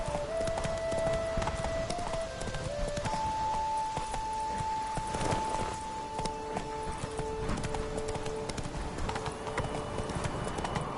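Roach the horse gallops in a video game, with a rapid, steady clip-clop of hooves running throughout and faint musical tones underneath.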